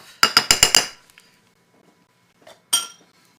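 A small whisk knocks and scrapes dried batter from a bowl: a quick burst of four or five sharp metallic clinks, a pause, then a few fainter taps and one more clink, close and clear.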